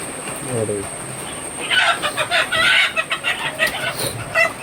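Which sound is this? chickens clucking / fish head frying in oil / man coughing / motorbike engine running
chickens clucking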